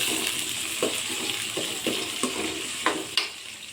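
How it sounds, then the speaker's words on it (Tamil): Curry leaves sizzle in hot oil for a Tamil shallot tamarind curry, with steady frying hiss broken by several sharp spatula scrapes against the pan, close and fairly loud. "கருவேப்பிலை ஒரு கத்து போட்டுக்கிறேன்."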